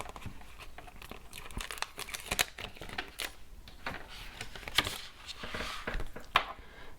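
A paper sticker being peeled and handled up close, giving a stream of crisp crinkles and small tearing snaps that come in uneven bursts and stand alone without any talk.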